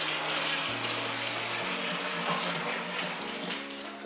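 Water gushes steadily into a large pot for a cider home brew kit, a close, continuous pouring rush with a low hum under it that stops partway through.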